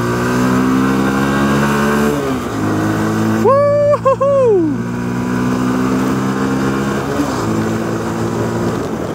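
A vehicle's engine hums steadily on a road near the Jatigede reservoir, then revs up to accelerate past another car, with a brief horn-like tonal whine midway and the drone settling back afterward.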